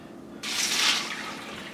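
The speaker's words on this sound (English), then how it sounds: "I'll just scrub out my barrel with soap and water" Running water rinsing out a rock tumbler barrel, a sudden steady splashing rush that starts partway in and continues close up.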